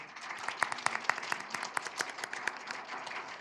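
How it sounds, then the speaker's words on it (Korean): A small church congregation claps in welcome for newcomers during a Sunday communion service, sparse and distinct claps in a loose irregular rhythm, fairly quiet, with faint voices underneath. "우리 환영의 박수 한번 해주실까요?"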